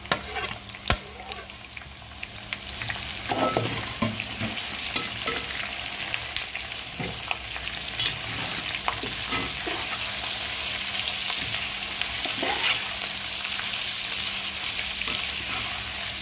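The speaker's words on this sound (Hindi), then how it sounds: "अब हम इसमें डालेंगे प्याज और साथ ही में मिर्ची भी डाल देंगे" Onion and green chilli frying for Mumbai-style kanda poha produce a loud, continuous sizzle. Scattered spoon knocks and stirring scrapes come through, with no speech.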